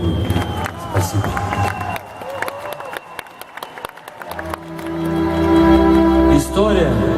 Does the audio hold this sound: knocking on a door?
no